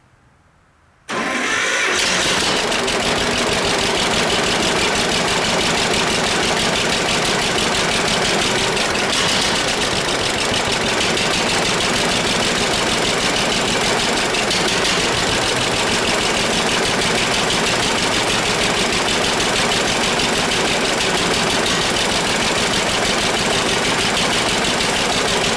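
A farm engine cranks and catches after a quiet second, then runs on at a loud, steady idle with a dense, rough mechanical drone that holds unchanged for over twenty seconds, close by, with no talking.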